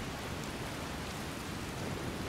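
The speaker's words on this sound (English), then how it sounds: "hopefully this rain subsides pretty soon" Steady rain pours down in the Skyrim video game, a constant even hiss of drops on surfaces that fills the scene without a break, close and unvarying, with no talk.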